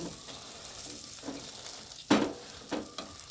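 An omelette with red sesbania flowers frying in a pan gives off a faint, steady sizzle, with a few sharper crackling bursts and stirring scrapes cutting through near the end.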